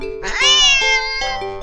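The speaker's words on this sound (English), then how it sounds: "the cat meows sharply at you and dashes off around the corner into the hall" A cat lets out a sharp, loud meow close by, rising and sustained for about a second, then tapering into a shorter follow-up cry, with no talking.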